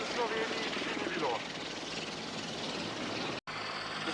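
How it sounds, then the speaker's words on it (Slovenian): Military helicopters fly overhead at a 1998 airshow in Celje, Slovenia, their broad rotor and engine roar steady and fairly loud, with a public-address voice faintly audible beneath and a brief dropout near the end. "Toliko vojnih helikopterjev v zraku v Sloveniji še ni bilo."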